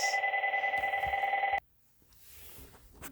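A telephone rings indoors with a steady electronic trill for about a second and a half, then cuts off abruptly, leaving quiet room noise.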